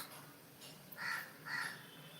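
Crow cawing from a tree, two clear harsh caws about half a second apart, moderately near, with nothing else around them.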